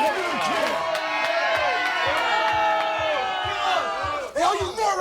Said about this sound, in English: all you morons can cheer all you want